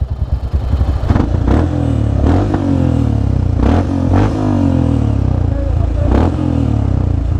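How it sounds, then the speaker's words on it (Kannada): A motorcycle engine runs after recent engine work, its throbbing idle and revs close and loud, with repeated sharp clattering knocks and bursts breaking through the steady drone. "ಇಂಜಿನ್ ಮಾಡಿಸಿದ್ನಲ್ಲ, ಸೌಂಡ್ ಕಮ್ಮಿ ಆಗ್ಬಿಟ್ಟಿದೆ."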